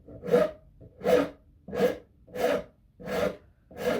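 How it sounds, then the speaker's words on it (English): A wood file rasps a small chamfer onto a wooden edge near a fragile knot: six even, unhurried strokes, each a rising and fading scrape with short quiet gaps between. "so I have to use a wood file"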